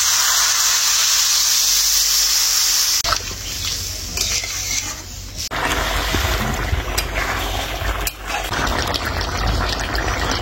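Water poured into a hot pan of Bengali pumpkin curry with Kashmiri chilli powder sets off a loud, steady hiss and sizzle, close up, with the texture shifting as stirring and bubbling continue.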